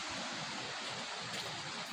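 Steady broadband rush of the Iku river flowing at a spot where a Shivaratri fair is held, a dense continuous wash with no clear pauses, close and fairly loud, no voices.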